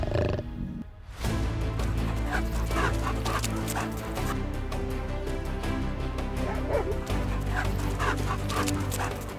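A pack of African wild dogs on the savanna gives off a busy mix of high yips, whimpers and barks, loud and continuous over a rough, noisy background.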